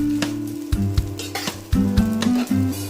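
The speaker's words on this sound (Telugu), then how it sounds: "తర్వాత రైస్ కొట్టాం, తర్వాత రైస్ని తిప్పి కొట్టాం." Schezwan egg fried rice is stir-fried in a pan, with repeated scraping and tossing strokes of a spatula over a steady close sizzle, metal clatters marking each turn of the rice.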